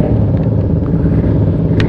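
A group of about fifteen motorcycles on a Sunday morning ride in Bandung, a thick continuous rumble of engines close by, loud and unbroken.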